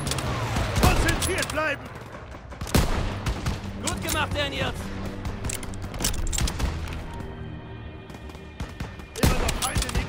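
Dense, loud gunfire from the World War II shooter Call of Duty: WWII, rapid automatic bursts and heavy booms during a fortress assault on flak guns, with voices talking over the shooting.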